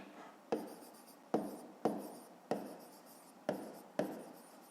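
Pen writing on paper while solving a fifth-grade maths exercise, heard as six sharp scratchy strokes at a steady rhythm, each starting with a crisp attack and fading quickly, close and quiet with no talking.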